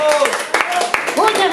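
Audience handclaps at a live cabaret-style show at Le Garage, a few sharp, uneven claps and bursts of clapping mixed under a performer's singing and speaking voice.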